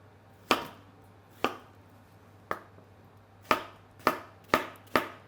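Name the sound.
knife dicing cucumber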